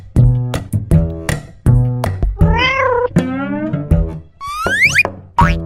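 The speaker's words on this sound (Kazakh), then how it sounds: "ана жерде бір мысық менің ақшамды ұрлап жатыр" A cat meows repeatedly and close by, a run of short calls followed by longer, rising and falling meows with a high squeal near the end.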